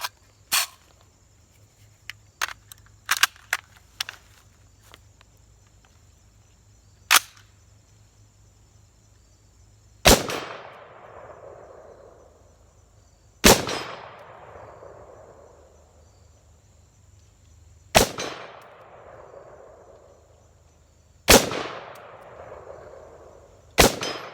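Five sharp, loud gunshots from a rifle fitted with a Sig Sauer Romeo5 red dot sight, fired at steel targets. They ring out alone with echoing tails, spaced a few seconds apart, after a run of small mechanical clicks and handling noises.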